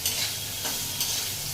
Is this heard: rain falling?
no